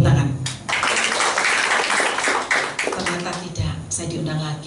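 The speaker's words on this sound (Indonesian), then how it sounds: "Tepuk tangan." A church congregation at a prayer meeting bursts into sustained applause, dense and steady for several seconds, with a voice speaking over it.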